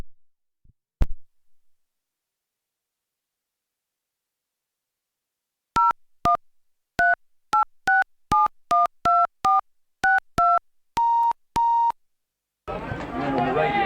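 Telephone keypad tones, a rapid series of short two-pitch beeps, two longer tones after them, then a burst of line noise, following a long quiet stretch with a single thump near the start.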